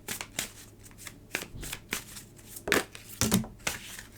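A Green Witches Oracle card deck being shuffled by hand, with crisp riffling and slapping bursts in an uneven rhythm, close and clear with no talking.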